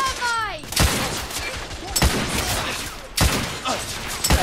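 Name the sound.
heavy gunfire in The Order 1886 video game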